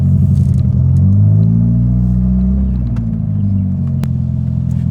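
A Honda Prelude with a freshly swapped manual transmission reverses slowly, its engine giving a steady, close, low rumble with slight clatter and no change in pitch.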